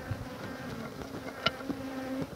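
Honeybees buzzing around a top bar hive and catcher box, a soft steady drone with a few brief louder passes close by.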